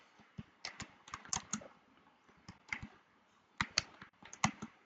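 Keys clicked on a computer keyboard while typing into a Google Docs document, with quick uneven clusters of light taps and brief pauses between them, heard close and alone.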